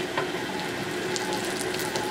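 Onions frying in oil in a pan for Jaffna-style brinjal curry, a steady, close, even sizzle with soft crackles running throughout, with no talking.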